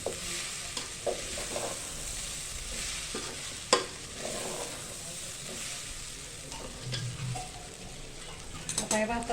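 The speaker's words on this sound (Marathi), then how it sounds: "हा तांदूळ आपल्याला चांगला परतवून घ्यायचा आहे" Rice sautés with peas, onion, tomato and spices in a pan for Maharashtrian masale bhaat, with a gentle continuous sizzle, repeated spatula scrapes and stirring knocks, and a sharper clank midway.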